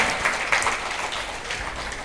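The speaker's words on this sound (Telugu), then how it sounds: "మరి గట్టిగా క్లాప్స్ కొట్టుకుందాం ఒకసారి శ్రీనివాస్కి." Audience clapping at a pyramid anniversary gathering for Srinivas, a steady wash of many hands applauding together, fairly loud and without a break across the short stretch.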